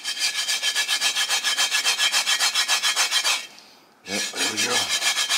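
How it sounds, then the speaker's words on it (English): Steady rhythmic scraping of gunk off an old, neglected cast iron Dutch oven, a fast series of harsh rasping strokes that pause briefly before resuming; someone speaks briefly during the break. "let's see if we can get this gunk off of here."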